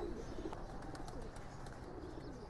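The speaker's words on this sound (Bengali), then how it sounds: "এই দেখেন কবুতরগুলো অলরেডি ট্র্যাপ হওয়া শুরু করছে।" Racing pigeons coo softly at the loft trap during training, low, gentle calls repeating under faint outdoor background noise.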